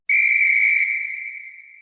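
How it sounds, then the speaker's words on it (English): A magic whistle gives one long, steady, shrill blast that starts sharply, holds, then slowly fades, clear and alone. "She blows the magic whistle,"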